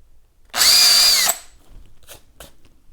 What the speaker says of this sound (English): you're only going to drill one of these holes with this one